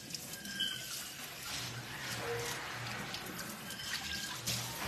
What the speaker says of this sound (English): I just rinse it off.